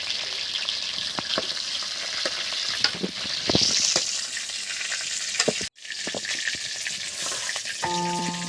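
Potatoes fry in hot oil for vegetarian khichuri, crackling in a steady close sizzle, broken by occasional stirring knocks and a short drop out before the bubbling hiss resumes.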